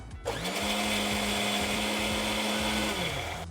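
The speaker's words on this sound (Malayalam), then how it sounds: "ആദ്യം എഗ് വൈറ്റ് ഒന്ന് ബ്ലെൻഡ് ചെയ്തെടുക്കാം അതിൻ്റെ കൂടെ ബട്ടർ" A blender whirs steadily as it whips egg white and butter into a base for mayonnaise, its motor spinning up quickly, holding a loud, even drone with rhythmic thumps, then winding down near the end.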